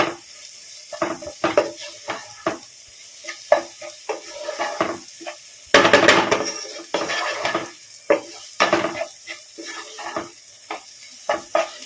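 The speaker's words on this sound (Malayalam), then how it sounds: "പച്ചച്ചുവ മാറുന്ന വരെ ജസ്റ്റ് ഒന്ന് വഴറ്റാം." Spice powders being sautéed for an okra milk curry, heard as intermittent metallic clinks and scrapes of a spoon against a pan, close and sharp with quiet gaps between strokes and a louder clatter midway.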